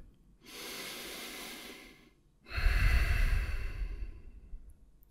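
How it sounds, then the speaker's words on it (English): A man draws two deep breaths, a softer airy inhale followed by a longer, louder and rougher one, close to the microphone in a quiet room, with no talking. "Breathes in deeply."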